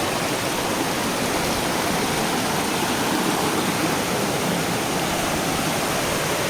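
A mountain waterfall at Mahendragiri in Gajapati pours steadily, a dense, unbroken roar of rushing water that stays loud and close throughout with no voices.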